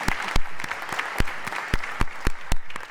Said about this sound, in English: please give a round of applause to our great speakers